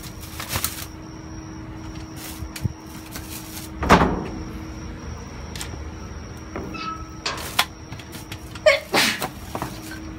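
A single sharp sneeze bursts out close by during an outdoor dumpster dive, set among scattered rummaging knocks, rustles and clatter.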